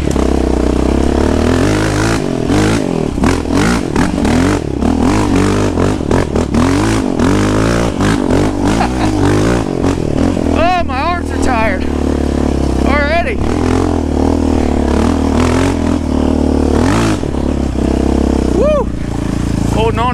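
A Yamaha Raptor 700 ATV engine revs hard and loud up close, with repeated throttle blips and rising, falling pitch as it is ridden, plus a voice whooping over the engine.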